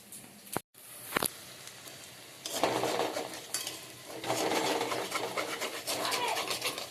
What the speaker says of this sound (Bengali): পেঁয়াজি হচ্ছে, এখানে আলু ভাজা